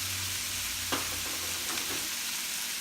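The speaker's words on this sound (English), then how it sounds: "Just stir fry them." Green pepper is stir-fried in a hot pan for sweet and sour fish, giving a loud, steady sizzle with a couple of soft scrapes as the pieces are tossed, and no talking.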